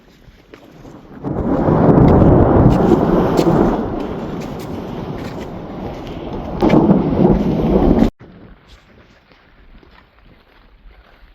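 A heavy thunderstorm roars with rumbling thunder and steady pouring rain, loud for several seconds, swelling again before cutting off to quieter rain.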